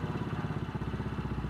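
A carbureted motorcycle engine idles unevenly and sputters with a lean air-fuel mixture as the mixture screw is adjusted, giving a fast, steady pulsing chug close by.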